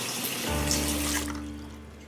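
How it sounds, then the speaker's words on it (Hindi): Water pours steadily from an open tap, starting abruptly and running as a continuous close rush that gradually eases slightly, with no voices over it. "टैप बंद करो ना, पानी वेस्ट हो रहा है"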